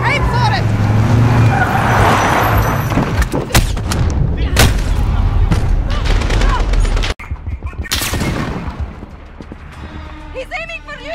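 An enemy Russian vehicle in Call of Duty: Modern Warfare rumbles through a loud, dense firefight, with repeated gunshots and artillery-like blasts over steady engine noise and shouting voices; the din briefly drops out midway before resuming.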